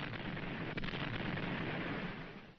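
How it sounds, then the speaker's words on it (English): Naval gunfire support bombardment for assault troops in the WW2 Pacific, a dense, continuous rumble of distant explosions and artillery blasts, steady and heavy throughout. "The gunfire support ships had their hands full, supplying called fire for the assault troops."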